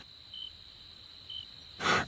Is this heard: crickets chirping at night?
yes